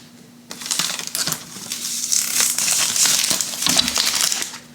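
Protective plastic film peeled off a glossy plastic WiFi 6 router, a close, continuous crinkling and crackling lasting several seconds with a few sharp pops.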